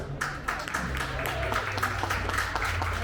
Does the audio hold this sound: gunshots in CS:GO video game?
no